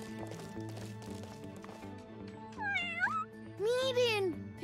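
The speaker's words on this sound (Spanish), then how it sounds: "¡Es uno de los gatitos del alcalde Huntinger!" A cartoon kitten meows in high, rising and falling cries near the end, over background music and animated-show ambience.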